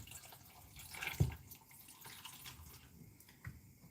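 Water being poured into a blender jar of green banana, plantain, oats, peanut and almond porridge, giving a quiet trickle with one brief splash near the start and a small one later, no talk.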